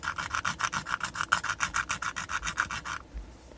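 A very coarse sanding disc grinds against a workpiece in steady, rhythmic back-and-forth rasping strokes, close and moderately loud, about a dozen regular passes before stopping abruptly.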